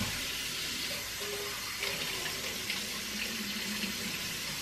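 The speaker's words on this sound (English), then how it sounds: "Give it a little rinse." Running tap water splashes steadily over a pepper being rinsed under a kitchen faucet while cooking meatloaf, a continuous moderate hiss with small shifts as the pepper moves in the stream.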